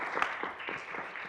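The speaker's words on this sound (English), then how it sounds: "Oh, I guess we can applaud that." Brief, light applause breaks out at a county board meeting as a new member is welcomed, a short scatter of claps from a small group, moderately quiet and over within a moment.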